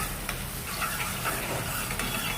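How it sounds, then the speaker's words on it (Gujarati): Tomatoes, whole coriander and spices sauté for misal on a gas flame turned up full, a dense steady sizzle with faint stirring scrapes close by. "ગેસ ફૂલ જ રાખવાનો એટલે ફટફટ સતરાઈ જાય ખાલી."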